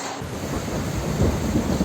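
A thunderstorm rages outdoors in Lahti, Finland, with steady rain and a low rolling rumble of thunder swelling toward the end, with no voices.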